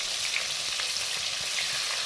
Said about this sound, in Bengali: আর একদিকে মাছ ভাজা হচ্ছে